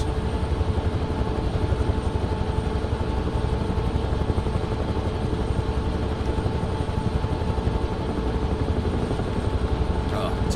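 A Huey helicopter in a flight simulator game gives a steady, droning rotor and engine hum with a constant rhythmic beat. It holds at an even level from start to finish, and a brief sharp click comes near the end.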